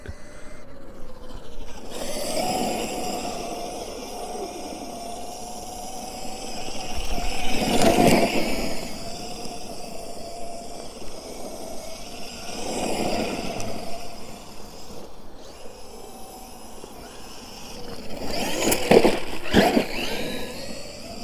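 A Traxxas Maxx RC truck drives and slides, its electric motor whining steadily with several louder surges and scraping bursts as it accelerates and skids, heard from a short distance with no voices.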